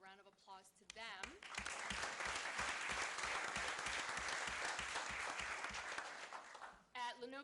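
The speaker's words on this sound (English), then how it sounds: "Round of applause to them." At a school board meeting, the room applauds honored students with a full, even round of clapping that swells quickly and holds for several seconds, with a voice speaking briefly at the start and end.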